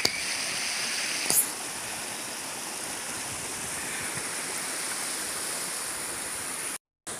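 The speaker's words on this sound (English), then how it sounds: "Bronte waterfalls. That's perhaps a bit more like Bronte Cascade." Small Brontë waterfalls, a modest cascade on a moorland stream near Haworth, make a steady broad rush of falling water up close, continuous and even with no voices.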